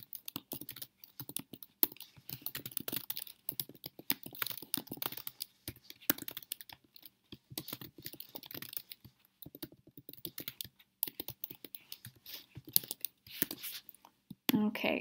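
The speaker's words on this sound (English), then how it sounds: "So I'm going to just start typing." Someone types on a computer keyboard in quick, uneven bursts of close, crisp clicks, with soft whispering or breathy speech now and then.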